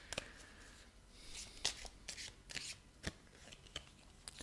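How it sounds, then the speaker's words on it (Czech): Crisp papery flicks and snaps of angel oracle cards being shuffled and handled, a quick series of sharp close riffles with brief pauses between. "Ještě se vytáhneme jednu andělskou kartičku."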